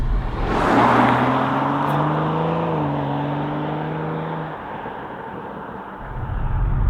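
BMW M340i with its B58 straight-six petrol engine pulls hard under acceleration, a steady rising drone with a gear change midway, heard from inside the cabin and fading toward the end.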